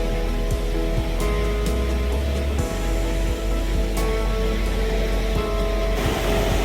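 Rushing water at Niagara Falls on the American side near the Cave of the Winds, a loud, steady roar with constant broadband noise and no pauses, heard up close.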